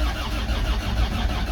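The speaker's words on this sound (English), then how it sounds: "It definitely cranks faster, not much faster, but at least to 140." A Land Rover Discovery TD5 diesel engine cranks steadily with a booster vehicle connected, a continuous low, churning mechanical drone that holds at an even level for the whole stretch without catching.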